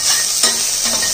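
Chopped onion and garlic sautéing in a pan, with a steady close sizzle and a couple of brief stirring scrapes over about a second of frying.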